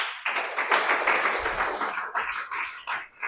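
Church congregation clapping hands together in praise during a sermon, a dense steady patter of many hands filling a hall, fairly close and continuous with no talk over it.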